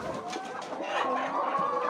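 Laying hens raised on organic remedies cluck in a flock, soft overlapping clucks and murmurs close by with a steady barn background.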